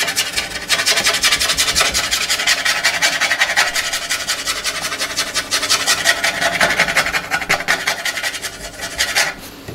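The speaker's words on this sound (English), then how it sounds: "And then we do it with a nail." A fingernail scratches across the wooden body of a violin in a violin maker's workshop, making a continuous close, dry rasping rub that runs steadily for several seconds and then stops.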